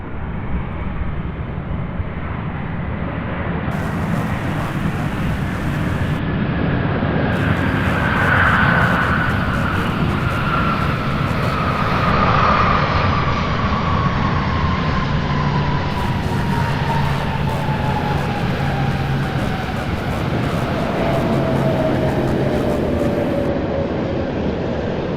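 A fixed-wing aircraft roars loudly and steadily at Louisville International Airport near UPS Worldport, its engine whine slowly falling in pitch as it passes close by, with no talk over it.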